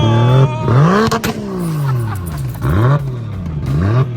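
A Nissan Skyline engine revs hard several times in close succession, pitch sweeping up and down with each throttle blip, loud and close.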